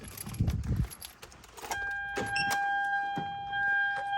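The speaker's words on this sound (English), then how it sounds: "Now if I put the key in the car" Car key jingling and sliding into the ignition of a 2010–2014 Hyundai Genesis Coupe 2.0T, a brief close metallic rattle followed by a steady electronic chime tone.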